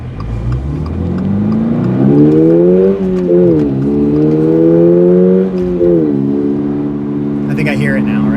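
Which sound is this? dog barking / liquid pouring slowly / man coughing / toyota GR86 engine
toyota GR86 engine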